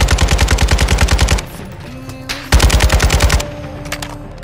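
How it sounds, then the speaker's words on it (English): Automatic gunfire in the video game Call of Duty DMZ on the Al Mazrah map, two loud rapid bursts of machine-gun fire, the first about a second and a half long, then a pause, then a second burst. "someone's shooting at me"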